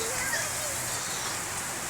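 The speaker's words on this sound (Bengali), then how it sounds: "দেখেন কি পরিমাণ বৃষ্টি নামতেছে" Heavy rain pours down on a rural village home, a steady, dense hiss of falling water that fills the whole stretch evenly without letting up.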